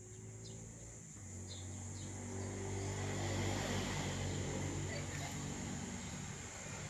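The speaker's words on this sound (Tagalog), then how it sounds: "naririnig nyo po yung ingay ng mga sasakyan" Distant traffic noise from vehicles passing near a walled farm lot, a low steady rumble that swells and fades with engine drone, faint and continuous, with occasional bird calls above it.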